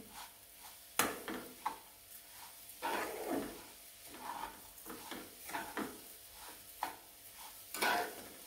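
Grated coconut and sugar being stirred in a pan for mango coconut barfi, soft scraping and scooping strokes repeating at an uneven rhythm, quiet and close, with no talking.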